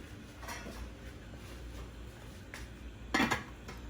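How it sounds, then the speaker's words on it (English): A metal lid clanks down onto a pot of boiling birria, a short sharp clatter near the end after a few soft kitchen taps, with low background noise. "So I'm gonna go ahead and put a lid on there."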